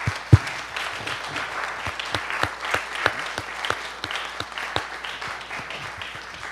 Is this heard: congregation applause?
yes